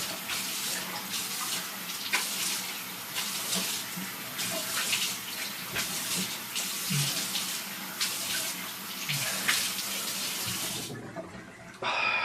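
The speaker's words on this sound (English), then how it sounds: "so do cold water rinse, as we always do, to make sure we close the pores" A tap runs steadily for a cold water face rinse after a wet shave. Water splashes and hisses continuously at close range for about eleven seconds, then cuts off.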